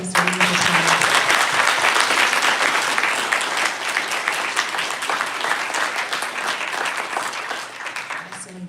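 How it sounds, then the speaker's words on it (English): Loud, sustained applause from an audience for guests at an 11th birthday celebration event, dense clapping throughout with a brief voice at the start and end. "let's give our lovely guests a round of applause"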